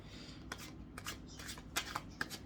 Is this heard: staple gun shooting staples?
no